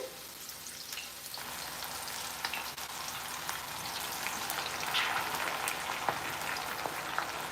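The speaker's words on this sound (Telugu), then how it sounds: "ఫ్రై అయిపోతుంది చూడండి ఇట్లా విడివిడిగా వేయించుకోవాలండి" Okra pieces deep frying in oil for crispy kurkure bhindi, a quiet continuous bubbling sizzle with scattered small crackles and pops, no talk.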